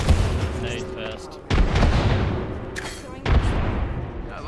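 Grenades explode in a squad-based video game shootout, landing as two heavy booms about two seconds apart. Each boom trails off into a rolling rumble, with game chatter mixed underneath.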